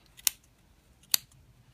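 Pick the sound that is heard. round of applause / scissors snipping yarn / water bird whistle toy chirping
scissors snipping yarn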